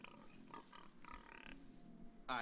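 Pigs in the video game Age of Empires 2 give a few faint grunts and oinks in short bursts, with a sharper squeal at the end.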